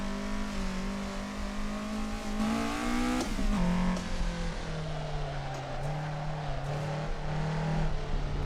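A Toyota AE86 on a mountain touge run, its engine dropping as it brakes, then a sharp rev-matching blip and downshift followed by a lower steady drone with small throttle surges, close and without voices.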